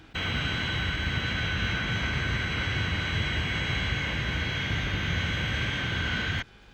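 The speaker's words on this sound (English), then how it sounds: "There she goes, through the sound barrier." The Fireflash jet airliner in the Thunderbirds episode roars through the sound barrier, a steady, loud, broadband jet rush holding constant for several seconds before cutting off abruptly.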